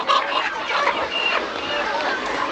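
Several chickens cluck and squawk together, close by, in a busy, continuous chorus over faint background noise, at a street food spot in Madagascar.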